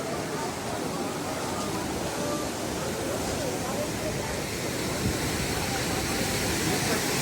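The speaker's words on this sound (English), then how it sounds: "So this is a close-up view of the waterfall right here by the train tracks." A waterfall beside train tracks at an amusement park, a steady broadband rush of falling water heard close up and loud, constant with no breaks.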